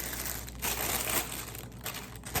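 A plastic bag wrapped around a Canon 70-200 IS USM II lens crinkles and rustles continuously up close, with sharper crunchy bursts throughout.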